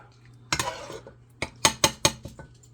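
Chili dog sauce being moved from a pot into a crock pot: a scraping scoop followed by several sharp metallic clanks and knocks of a utensil against the pot rims, close and distinct over a quiet background.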